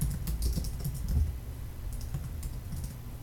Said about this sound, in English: you can type in your text